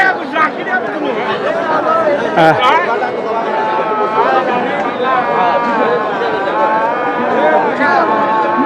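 Cattle low with long, deep moos at a busy Panchagarh livestock market selling sacrificial cattle, close and loud under constant crowd chatter and people talking.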